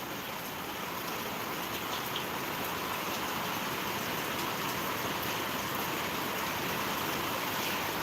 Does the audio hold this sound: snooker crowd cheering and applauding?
no